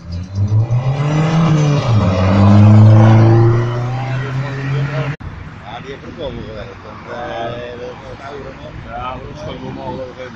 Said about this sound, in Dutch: Hij gaat burnen.